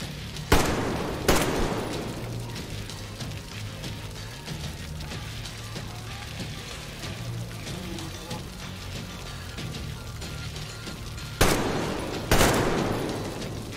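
AK rifle fire in the video game Metro Exodus, with two loud bursts of shots that open and close a stretch of quieter rumbling game ambience and a low hum.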